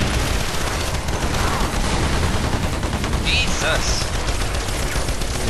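Rapid, sustained weapon fire from the Earth Defense Force video game forms a dense, continuous barrage, and a player briefly exclaims over it.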